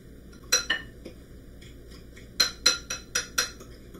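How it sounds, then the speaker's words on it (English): Spoon clinking against a bowl while stirring sugar into pie-crust crumbs, a few sharp metallic taps in two short clusters, close and fairly quiet. "you want to add your sugar to your crumbs and give that a little bit of a stir"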